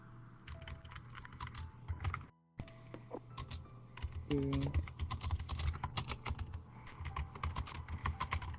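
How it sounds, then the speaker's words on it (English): Rapid clattering keystrokes on a computer keyboard, steady and close, with a brief pause midway and a low background hum. "What are you typing?"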